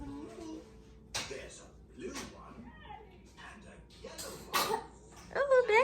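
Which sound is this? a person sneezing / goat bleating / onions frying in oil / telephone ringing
a person sneezing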